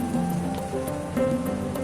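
Bay leaves sizzling in hot oil after tempering spices, a dense continuous spatter and crackle like rain on a surface, close and even throughout with no talk.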